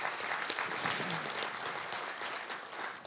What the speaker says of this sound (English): A little round of applause for Marky B.